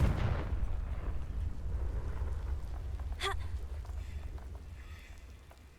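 The Confringo spell explodes in the video game Hogwarts Legacy with a heavy, booming blast that starts loud and rolls away into a long rumbling decay, followed by a brief crackling burst.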